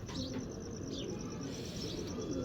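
A pigeon coos softly inside a loft, over a constant low hum and background noise, with faint chirps and no talk.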